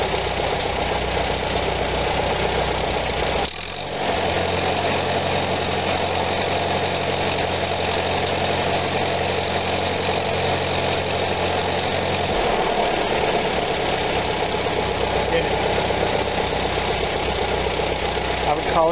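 A 1945 Farmall BN tractor engine runs steadily nearby with a loud, rough, continuous drone, briefly changing pitch as the throttle shifts.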